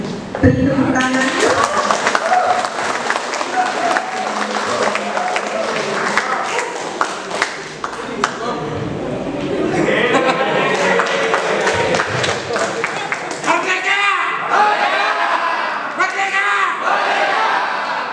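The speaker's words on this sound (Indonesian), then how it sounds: "Beri tepuk tangan." Audience at a law college graduation (yudisium) ceremony in Painan breaks into loud, sustained crowd applause and cheering that fills the hall, with voices mixed in throughout.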